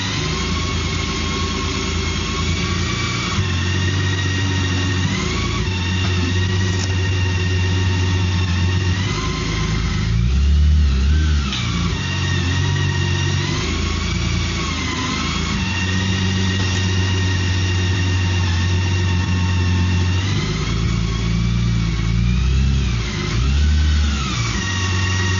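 A BMW K1600 GT motorcycle engine runs while the large bike backs into a garage, a loud, steady low drone with small swells and dips in pitch as the throttle is worked, and no voices.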